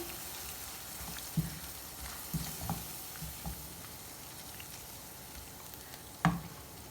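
Masala for dhaba-style paneer bhurji cooks gently in a pan over low heat. A quiet, soft sizzle runs throughout, broken by a few sporadic pops and taps.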